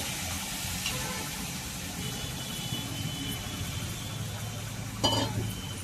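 Eggplant pieces fry in hot oil in a pan with a steady, soft sizzle, joined near the end by a brief clink of a utensil against the pan.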